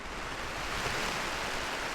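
Heavy rain pounds steadily on a KingCamp tent during a wild-camping rainstorm, a dense, continuous broadband hiss and patter with no gaps, close and fairly loud.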